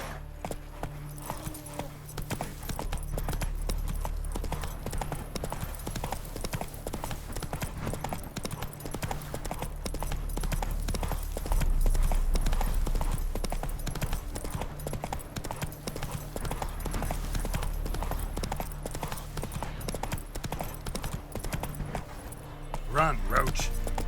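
A horse gallops in The Witcher 3 Next Gen: a steady, rapid clip-clop of hooves runs throughout over a constant low rumble, with voices talking at times.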